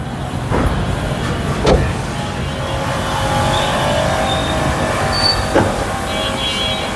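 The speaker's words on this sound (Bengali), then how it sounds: "বাট এখান থেকে কিন্তু আমরা গাড়িটা স্টার্ট দিতে পারবো" A 2006 Toyota Rush with keyless start runs with a steady, even engine rumble and hum throughout, fairly close, with a couple of faint clicks and no talking.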